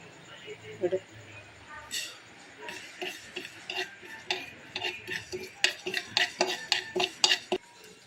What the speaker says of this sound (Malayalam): അങ്ങനെ ഉലുവയും കടുകും പൊട്ടി തുടങ്ങി